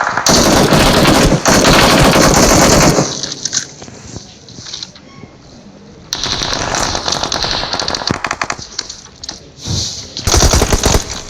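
Loud bursts of automatic gunfire from the battle royale video game PUBG, heavy volleys at the start and again in the middle and end, separated by a quieter stretch, with a voice talking in places.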